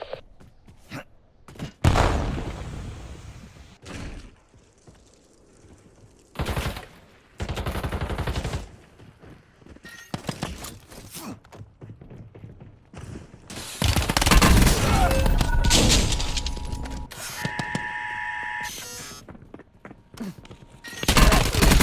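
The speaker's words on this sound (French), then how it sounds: "J'ai essayé de tirer." Gunfire bursts in the battle royale game Black Ops Royale, with loud shots and rapid volleys that come and go between quieter stretches, and dense sustained firing late on.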